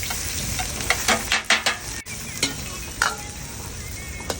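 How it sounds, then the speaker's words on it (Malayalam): Chopped onion sizzles in coconut oil with cinnamon, cloves and cardamom, a close steady hiss punctuated by several sharp clinks and scrapes of a stirring spoon against the pan. "നമ്മൾ അരിഞ്ഞു വെച്ചുള്ള സവാള അത് ഇതിൽ ആഡ് ചെയ്യാം."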